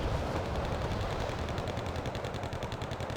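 Sustained machine gun fire from infantry in the real-time strategy game Wargame Red Dragon, dense rapid bursts rattling continuously over a loud battlefield rumble.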